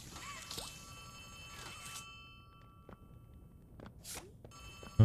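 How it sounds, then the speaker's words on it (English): A telephone bell rings in short repeated bursts, thin and somewhat distant, amid faint mechanical clatter and background ambience, in the video game Poppy Playtime Chapter 3. "Sounds like the phone is over this way."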